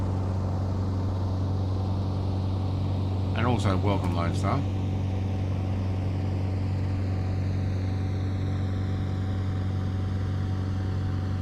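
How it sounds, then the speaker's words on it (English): Twin piston engines of a warbird aircraft in Microsoft Flight Simulator drone steadily and evenly throughout, with a brief burst of speech partway through over the engine hum. "It still does sound nice with the twin engines though."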